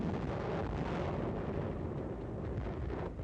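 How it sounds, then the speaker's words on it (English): Enemy artillery shell fire in 1945 wartime combat footage from the Okinawa campaign, a continuous dense roar of explosions and rumbling barrage, loud and unbroken throughout. "Heavy and accurate enemy shell fire from artillery emplacements on the ridgetops has been effective against our armored units."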